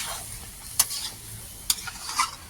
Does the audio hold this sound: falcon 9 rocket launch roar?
no